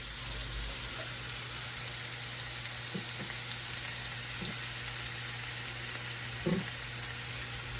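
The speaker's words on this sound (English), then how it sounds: "Just going to let this sear on each side for probably about 3-4 minutes." Pork chops sear in a frying pan with a constant hissing sizzle, a low hum beneath and a few faint clinks from the pan or utensil, heard up close without speech.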